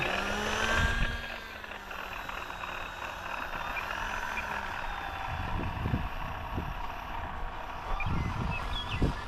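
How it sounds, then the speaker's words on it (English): An FMS Pilatus PC-21 RC model plane fitted with a Master Airscrew 11x7 propeller taxis along the ground, its electric motor whining at a steady pitch with a few brief bumps and rattles. "So this is the Master Airscrew 11 by 7 as we're taxiing out here."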